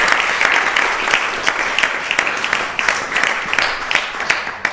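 A seated audience applauds at the end of a class on Vaishnava dharma, a close, lively burst of many people clapping continuously for a few seconds.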